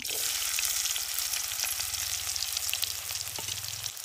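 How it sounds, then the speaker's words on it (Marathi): Chopped onion hits hot oil with mustard seeds and cumin in a pan over a wood-fired chulha, giving a steady, loud sizzle and crackle that holds for the whole stretch, with a faint stir near the end. "बारीक चिरून घेतलेला कांदा आहे तो त्याच्यामध्ये टाकते।"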